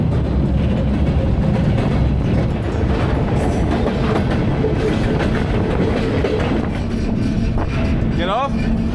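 A freight train rolls along rails through Kazakhstan, a loud, continuous rumbling roar with rattling cars and clatter heard close by from aboard, and a brief squeal near the end.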